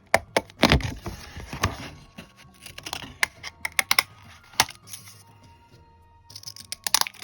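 Scissors snip out paper Christmas stamps in a run of sharp, close clicks and crisp cuts, some quick and clustered, others spaced apart.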